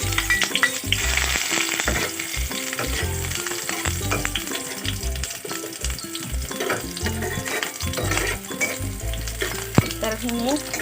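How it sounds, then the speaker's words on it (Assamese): Chopped onions hit hot oil in a wok and fry with a loud, crackling sizzle, punctuated by scraping stirs and clattering bursts throughout, close up and with no talk. "তেলখিনি গৰম হৈ গ'ল। এতিয়া মই তেলত পিঁয়াজ দিলোঁ।"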